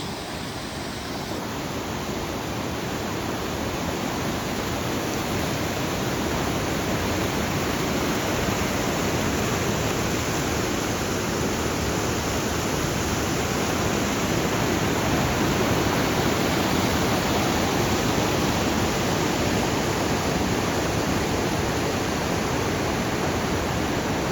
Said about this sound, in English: this is one of the highlights today, is this waterfall